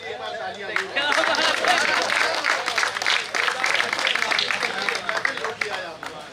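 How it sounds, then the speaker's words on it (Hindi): Loud, sustained applause from an audience at a poetry gathering (mushaira), welcoming the master Urdu poet to the microphone, a dense wash of clapping with crowd noise running throughout. "ज़ोरदार तालियों के साथ माइक पर इस्तकबाल कीजिए जनाब फ़हमी बदायूनी साहब"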